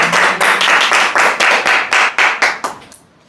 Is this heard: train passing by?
no